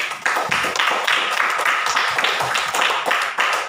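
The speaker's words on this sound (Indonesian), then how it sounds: "Bagi tepukan." A class bursts into applause, a dense, bright patter of many hands clapping close by that carries on for several seconds with no pauses.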